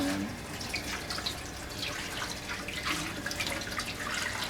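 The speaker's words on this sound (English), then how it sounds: "Now the stainless steel one, you just kind of Rinse it all around." Running tap water splashing steadily over a stainless steel juicer part being rinsed in a sink, a soft continuous wash with small irregular spatters.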